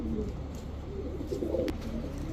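Rajshahi Lal Sundori pigeons coo in soft, rolling low calls, a few overlapping phrases heard close against a faint background hum.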